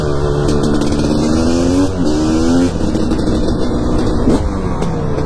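A two-stroke motorcycle engine revs loudly and up close, its buzzing, raspy note rising and falling through several throttle blips over a few seconds, with no one speaking.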